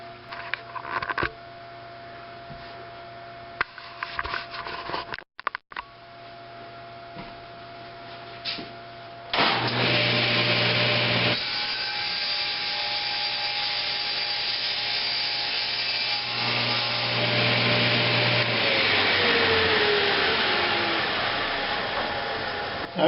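A table saw with a crosscut sled slices through a wooden workpiece, the blade's loud steady whine and cutting rasp starting partway through after quieter shop sounds and running continuously to the end.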